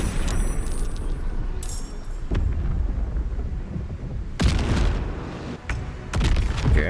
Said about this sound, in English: We have a bombardment here.